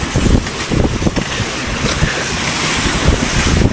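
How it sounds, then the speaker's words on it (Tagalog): Rough sea waves wash and slap around a small Filipino outrigger boat out at sea, a loud continuous roar of surf and wind buffeting the microphone with no clear pauses. "Maalon mga kabiwas."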